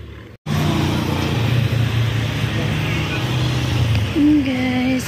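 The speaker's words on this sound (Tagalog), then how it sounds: "So ayun, tama-tama may tricycle na" Motorized tricycle coming along a roadside bus and tricycle waiting spot, its engine droning steadily throughout with a rising whine near the end, over general street noise.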